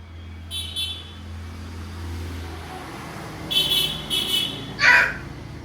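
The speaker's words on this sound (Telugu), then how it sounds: "కాకా కాకి పిలు, కాకి అని పిలు." A crow caws three times in quick succession near the end, loud and fairly close, over a steady low hum of road traffic during a Sankranti visit in the Godavari region.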